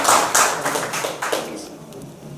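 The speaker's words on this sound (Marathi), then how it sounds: "परत एकदा टाळ्या वाजवून त्याचं कौतुक या ठिकाणी व्हावं." An audience at the Aadhar Foundation prize distribution claps for a prize winner. A burst of distinct, fairly loud claps thins out and fades over a couple of seconds.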